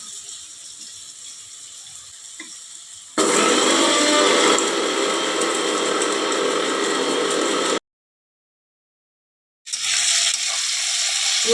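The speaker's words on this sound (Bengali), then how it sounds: "গুঁড়ো করে নেব মিক্সিতে দিয়ে" A kitchen mixer grinder whirs loudly as it powders spices for a Bengali fish-head chhechra curry, starting after a quiet lead-in, running steadily for several seconds, stopping briefly, then starting up again.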